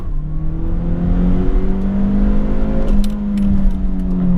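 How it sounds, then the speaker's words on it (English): A 1997 Nissan 180SX Type X pulls away in first gear, its engine note climbing steadily from a low drone to a higher hum, heard from inside the car with faint rattles and no talking. "no clutch drop, just first gear acceleration"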